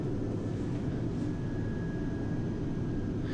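Steady broadband drone of a Pilatus PC-12 turboprop airplane on approach, heard from inside the cockpit, with a continuous engine roar and a faint steady tone running throughout.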